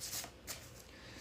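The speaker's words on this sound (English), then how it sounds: "3 more shuffles." Tarot cards are shuffled in a couple of quick, soft riffling bursts, faint and close, with no talking.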